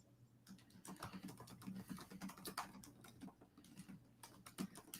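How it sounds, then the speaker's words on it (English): Typing on a computer keyboard during a live chat, rapid irregular clicking keystrokes, close but quiet and continuous with no talking. "Oh, I'm typing in the chat"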